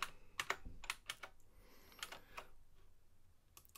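A short, quiet burst of keystrokes on a computer keyboard types out a git clone command, in uneven clusters of clicks with small gaps between them.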